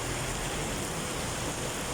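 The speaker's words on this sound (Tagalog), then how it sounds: "Lakas ng ulan, no?" Heavy rain pours down steadily outside a parlor, a dense, even hiss with no pauses or distinct drops standing out.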